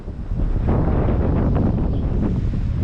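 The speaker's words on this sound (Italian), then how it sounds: "Questo vento mi sta dando tante soddisfazioni." Strong mountain wind at Campo Imperatore buffets the microphone, a loud, steady roar with gusty rumble and no voices.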